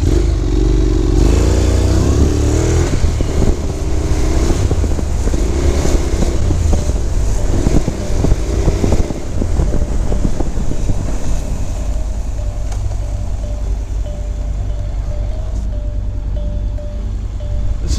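A moped engine drives past in the street at Shepherd's Bush, loud and close under steady wind buffeting, its droning pitch shifting through the first half before settling into a steady hum.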